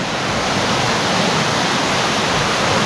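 Sea waves breaking on an island shore give a steady, loud, broadband wash of surf that fills the whole stretch without a break and without voices.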